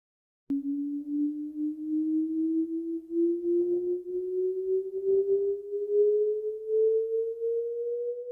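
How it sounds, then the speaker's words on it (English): A steady pure sine sweep glides slowly and continuously upward in pitch from an omnidirectional sound source during a room acoustics measurement, clean and unbroken, with faint rustling noise briefly underneath. "plays a continuous sine sweep out of the omnidirectional sound source"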